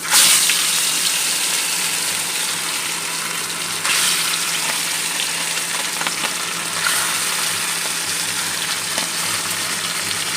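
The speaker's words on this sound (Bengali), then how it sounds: "এই যে মাছগুলো আমি এখন ভাজা করব। তেলটাও তেতে গেছে।" Bata fish sizzle steadily in hot oil, a dense, continuous frying crackle close by, with a brief louder flare near the start and a few scattered pops throughout; no voices.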